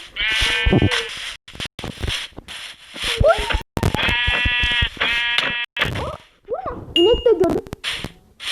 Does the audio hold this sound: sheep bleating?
yes